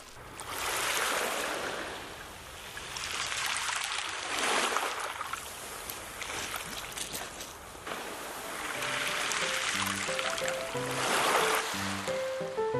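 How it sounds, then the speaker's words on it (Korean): Sea waves wash in and draw back over reddish-beige pebbles on a beach in slow, swelling surges, a hissing rush that rises and fades, with a faint tonal tinkle near the end. "바닷물이 옥돌 사이로 쓸려나가는 소리가 묘하게 사람을 잡아끕니다."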